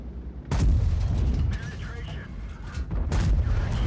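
Heavy booming blasts from a tank cannon in World of Tanks, two loud broadband shots about two and a half seconds apart, each trailing into a rumbling low tail, with voice underneath.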